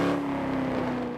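A car engine in Forza Horizon 4 drones loudly at steady high revs in a brief, close burst with no voices.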